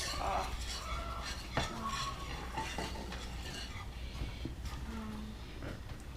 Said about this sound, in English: make sure you're using a whisk. Whisk is best for this, so that you can like break the lumps and like mix everything properly